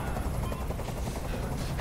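A helicopter in the video game Detroit: Become Human gives a loud, steady rotor roar with rapid rhythmic thumping that fills the whole short stretch.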